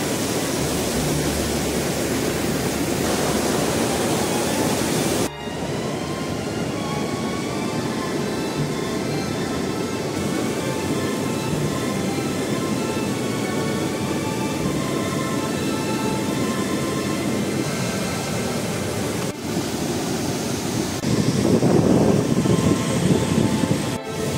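Bhivtas waterfall at Surgana near Nashik, a continuous rushing roar of water held at a steady level, with some faint tonal sounds partway through and a louder gush near the end.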